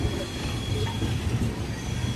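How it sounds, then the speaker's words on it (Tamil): A passenger train rolls into Tirunelveli Junction, its wagons giving a continuous loud rumble with faint wheel squeal and rhythmic clatter on the rails, steady throughout with no voices. "ஃபைனலாக திருநெல்வேலி ஜங்ஷனுக்குள்ளே மூவ் ஆகிக்கிட்டு இருக்கு ட்ரெயின்."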